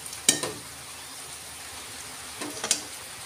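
Grated tomato cooks down in a spiced masala for a soya paneer dish, making a faint, even sizzle broken by two sharp utensil clinks against the pan.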